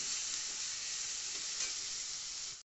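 Ginger, garlic and green chili paste frying with onions in a pan for a Bengali-style chicken curry, a constant loud sizzle with soft stirring scrapes and no talking.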